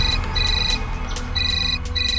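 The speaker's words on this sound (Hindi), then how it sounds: "रणविजय को फोन आ रहा है" A phone ringtone rings in repeated electronic tone bursts, loud and steady over a low background hum.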